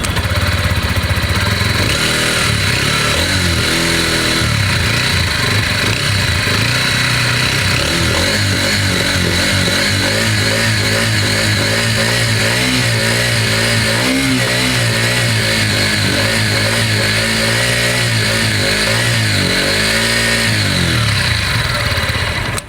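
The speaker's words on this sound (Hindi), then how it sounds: "अब एक बार हम इसका साउंड सुनेंगे किस तरीके से होने वाला है।" TVS Ronin 225 motorcycle engine running steadily in neutral, a loud continuous idle with rhythmic revs swelling and falling throughout, close to the microphone with no talk.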